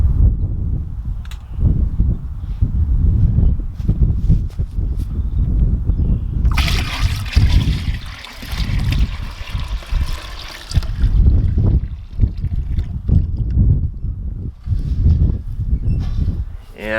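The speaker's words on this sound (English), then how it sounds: "add the wort to 2 gallons of water inside our fermenter" Wort pours into two gallons of water inside a home-brew beer fermenter, a steady close splashing trickle that swells into a louder rushing gush midway, then settles back to a lighter slosh.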